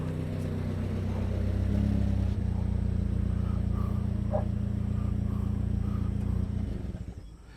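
A vehicle engine rumbles steadily at idle, loud and close, then cuts out near the end and the low drone fades away to quiet.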